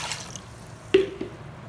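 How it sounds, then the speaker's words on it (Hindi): Water goes into a cooking pot while preparing beef shami kabab, heard as a few soft splashes and drips, one sharper splash near the middle and a smaller one just after, quiet and close in a calm kitchen. "हम अपनी डेगची के अंदर जो है पानी डालेंगे"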